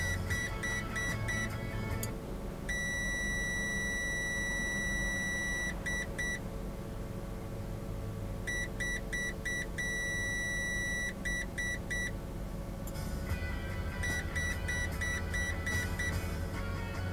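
Car parking sensors sounding through a steady run of repeated electronic beeps in bursts with short gaps, a slow warning chime, over constant low engine idle and outdoor background noise.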